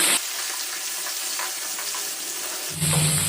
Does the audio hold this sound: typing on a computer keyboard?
no